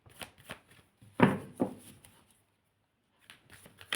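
Tarot cards are shuffled by hand in a quiet room, a series of soft, close riffling and slapping bursts, the loudest in the middle, with a pause before a few more quick shuffles.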